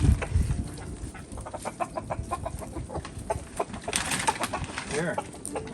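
Several chickens cluck and murmur nearby in a busy, uneven chatter, with a few louder squawks rising over the flock.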